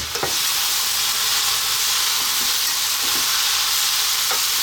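Singapore-style vegetable noodles stir-fry in a hot pan, a loud, dense, continuous sizzle with occasional scraping stirs and light clinks, close up and steady throughout, with no talking.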